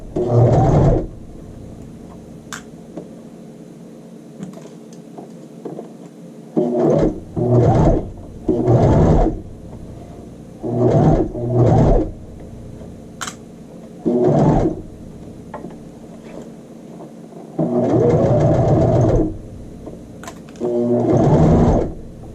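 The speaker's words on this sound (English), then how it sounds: "I'm sewing in between my basting stitches." Sewing machine stitching a child's shirt sleeve between basting stitches, running in about seven separate bursts of rapid needle chatter, loud and close, with short pauses of handling between runs.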